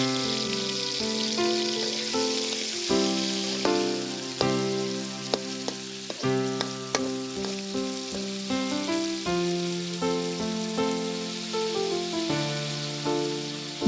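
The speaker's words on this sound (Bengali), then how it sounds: "গরম তেলে ভাজা হচ্ছে চিংড়ি।" Prawns frying in hot oil in a wok give off a continuous hiss with faint crackles, sitting beneath a prominent melodic music track for the whole stretch.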